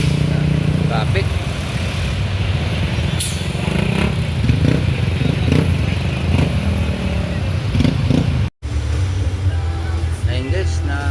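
Road traffic heard from inside a bus, with a steady rumble of engines and passing motorcycles, rattling clatter and a continuous close drone that carries on throughout.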